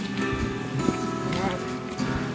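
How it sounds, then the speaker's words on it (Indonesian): Light drizzle patters steadily around hikers climbing Mount Slamet in rain jackets, with muffled footsteps and rustling beneath the close, continuous hiss. "Dengan keadaan gerimis, kita pun melanjutkan pendakian menggunakan jas hujan"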